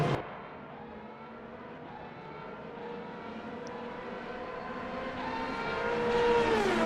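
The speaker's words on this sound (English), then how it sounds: "Now I'm hearing someone's onboard engine in the broadcast too" A race car's onboard engine in the Le Mans Ultimate sim at Circuit de la Sarthe drones steadily with a rising whine, faint and distant at first and swelling louder toward the end.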